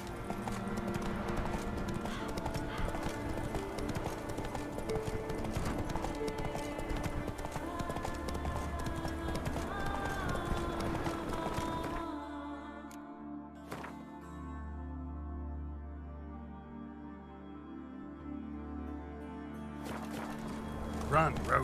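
Roach, the horse in The Witcher 3: Wild Hunt, gallops with rapid, steady hoofbeats under a busy game soundscape, then the hooves drop away into a quieter stretch with sparse thuds.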